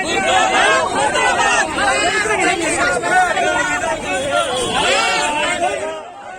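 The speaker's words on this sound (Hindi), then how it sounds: "ये हंगामा है नागपुर के गणेशपेट परिसर का, जहां बस स्टॉप के पास विदर्भवादी नेता सड़क पर उतर चुके थे" Vidarbha activists protest on the street by a bus stop in Nagpur's Ganeshpeth area, making a dense uproar of many overlapping shouting and chanting voices that stays loud and close almost throughout before easing slightly at the end.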